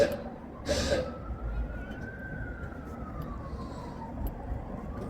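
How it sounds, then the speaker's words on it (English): A faint emergency siren, from a tow truck, wails slowly in the distance beneath low traffic rumble and background noise. "Yeah, the sirens in the back."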